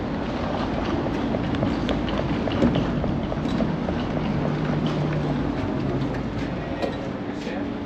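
Onboard a Deutsche Bahn ICE L train in motion: a steady loud rumble with rhythmic rail clatter and faint clicks, continuous throughout.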